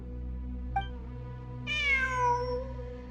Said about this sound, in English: Oh, it's a new cat.